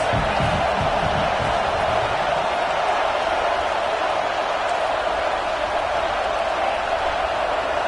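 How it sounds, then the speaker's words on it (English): A college football stadium crowd roars steadily throughout, a dense, continuous wall of cheering and noise from a large audience with no clear breaks. "This crowd trying to make life miserable for this offense."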